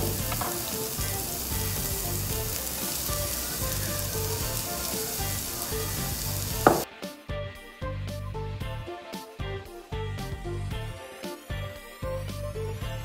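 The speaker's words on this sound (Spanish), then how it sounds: "En un sartén de hierro vamos a ponerle un chorrito de aceite de oliva y enseguida agregar la cebolla morada para así acitronarla un poco." Red onion sizzles in olive oil in a cast iron pan. A dense, loud hiss runs for several seconds, then abruptly drops to quieter, broken crackling with scattered pops and scraping stirs.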